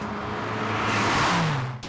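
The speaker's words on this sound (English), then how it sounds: "This is a 2000 model Mazda RX-7. It's got a rotary engine and two turbos" A 2000 Mazda RX-7 with a twin-turbo rotary engine revs up with a rising, buzzy whine, loud and close, then cuts off abruptly.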